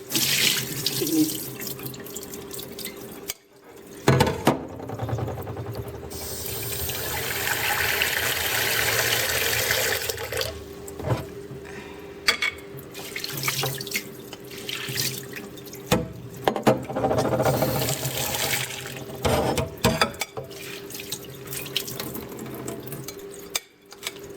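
Yellow mung beans are rinsed under a running kitchen tap, with steady splashing and gushing water broken by brief pauses, sloshing and clinks as the beans are swirled by hand.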